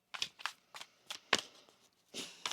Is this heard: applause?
no